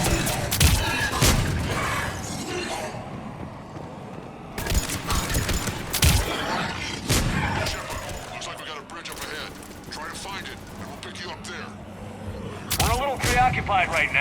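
A Mass Effect firefight on Tuchanka, with bursts of gunfire, heavy impacts and thuds mixed with mechanical battle noise, continuous and moderately loud, while voices talk over the combat.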